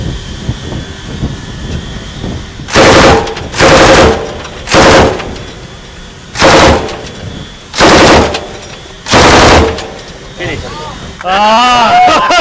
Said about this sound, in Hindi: ये हथियार 1 मिनट में 650 से 900 गोलियां फायर कर सकता है।